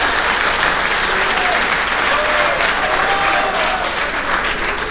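A crowd at a high school athletic banquet applauds, a dense, loud and steady roar of many hands clapping that holds evenly throughout with no talking over it.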